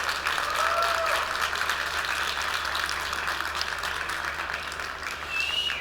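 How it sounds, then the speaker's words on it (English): A large audience at the Expand North Star 2025 conference gives sustained, dense applause that keeps going steadily and eases slightly toward the end. "That's a huge round of applause."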